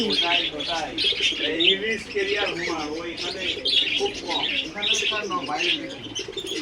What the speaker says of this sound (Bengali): এখানে আরো রয়েছে, প্রচুর পাখি রয়েছে।